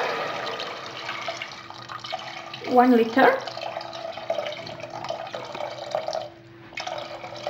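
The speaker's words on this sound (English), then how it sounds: "Add water" Water pours into a pot of watercress soup with softened butter and shallots in a home kitchen, a brief splashing burst in the middle under steady background hum, with someone talking around it.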